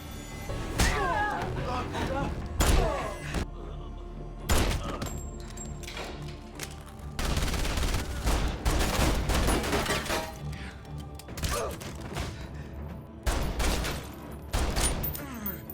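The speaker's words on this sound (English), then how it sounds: "Other men start shooting at the car, and Garcia hears the gunfire" Bursts of rapid gunfire in a film crackle and boom in repeated volleys, loud and close, with brief pauses between the salvos and occasional heavy thuds.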